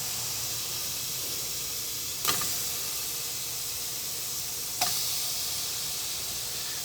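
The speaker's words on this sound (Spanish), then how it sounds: "Aquí tengo 12 onzas de bacon, pero no se lo vamos a echar completo. La vamos a poner ahí a sofreír." About 8 ounces of chopped bacon sizzles in a pan, a steady hissing frying sound throughout, broken by two brief clinks or taps.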